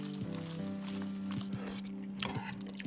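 Cooked pasta tossed in a hot pan, with a steady sizzle and frying hiss and soft scraping and rattling bursts as the noodles shift, close and continuous.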